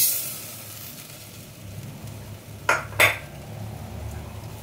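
Sugar goes into a pot for jalebi syrup, heard as two quick close clinks and rattles of a utensil against the pot over a faint background hiss, with no talking.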